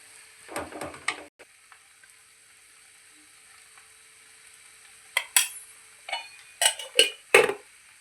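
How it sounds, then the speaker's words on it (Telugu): Ghee, cashews and raisins go into semiya kesari in a pan: metallic spoon scrapes and clinks come in short clusters, then a soft brief sizzle, close up, with near silence in between. "పైనుంచి 1 స్పూన్ నెయ్యి వేసుకుందాం. వేసుకొని జీడిపప్పు, కిస్మిస్ వేసేసుకుంటే రెడీ అయిపోతుంది."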